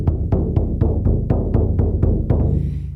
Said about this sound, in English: You're going to hear the drum in this particular tempo as we journey to the middle world